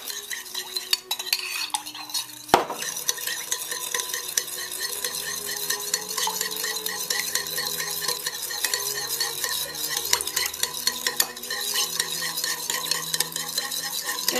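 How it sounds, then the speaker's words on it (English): A sugary sauce for Vietnamese banh cuon is stirred with a utensil in a bowl. Soft scraping and occasional clinks run continuously under background music. "And now just mix it all up."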